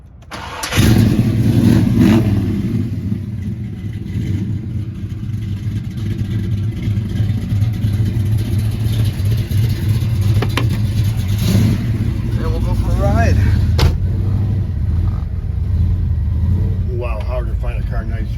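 A 1967 Chevrolet Chevelle engine cranks and fires, then settles into a loud, steady idle with a deep rumble that carries on under a few light blips, heard up close.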